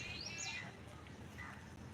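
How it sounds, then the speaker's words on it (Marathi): Faint morning bird chirps rise briefly over a steady outdoor hum, with a few calls scattered in the distance. "सकाळी पक्ष्यांचा आवाज येतो क्याव क्याव क्याव"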